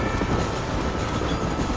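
Train rolling past in Red Dead Redemption, a dense steady rumble and clatter of rail cars that fills the short stretch at a constant loud level with no talk.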